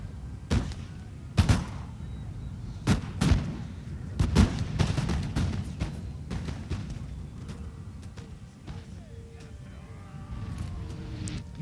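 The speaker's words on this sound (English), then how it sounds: "while my sharpshooters are shooting" Musket volleys from sharpshooters in Napoleon Total War, a Denmark versus France battle: several sharp cracking shots near the start, then a steady rumbling battlefield din with scattered distant pops and muffled booms.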